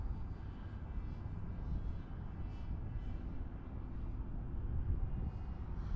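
A Skyhunter 787mm racing RC plane with a modified carbon tail flies in gusty wind, its faint, steady motor drone heard from a distance under wind noise, with no talking.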